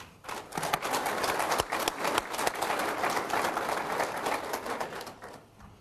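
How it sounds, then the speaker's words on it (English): Audience at a 2010 Hill County Electric annual meeting breaking into a round of applause, crisp clapping from a large crowd that swells quickly, stays lively, then tapers off at the end. "I think we need to give them a round of applause"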